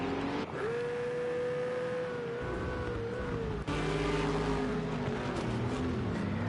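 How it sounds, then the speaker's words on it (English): Lamborghini and Renault GT3 race cars on the straight at Algarve, a loud sustained engine drone with rising and falling pitch, a second car's note joining after a brief break, no talk. "Lamborghini has a small advantage in the straight line, which is the only thing keeping this Renault at bay at the moment."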